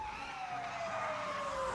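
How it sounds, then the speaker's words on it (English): A police car siren wails alone as one steady tone gliding slowly downward, moderately loud over faint road noise. "another police car coming at us."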